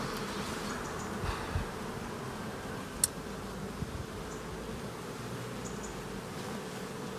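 A swarm of honeybees infested with varroa mites buzzes steadily at an apiary hive, a dense continuous drone close by with no talking.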